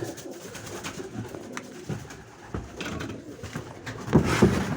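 Pigeons coo in a loft after a snow-disrupted flight, a low steady burble of overlapping calls with occasional knocks and shuffles, growing louder near the end.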